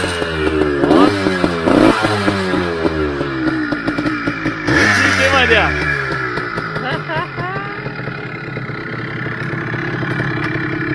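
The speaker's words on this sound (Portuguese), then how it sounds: "O Vandeco vai ligar a DT-180." A Yamaha DT180 motorcycle engine fires up and is revved hard several times, loud and close, with rising and falling pitch sweeps before it settles toward a steadier run, while people talk nearby.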